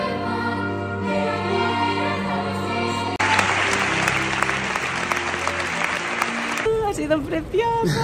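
Audience applause and cheering at the close of a live musical show, a dense steady clapping crowd that swells louder midway, with music sounding alongside at first and a voice briefly at the end.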